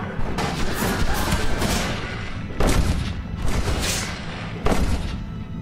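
Heavy video-game gunfire in Red Dead Redemption, with loud overlapping volleys of shots and booming blasts that come in dense waves, each surge flaring up and then trailing off.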